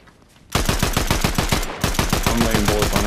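Rapid automatic gunfire in Fortnite, a fast steady burst of close, loud shots with no talk. A brief lull comes before the shooting starts, then it keeps rattling on.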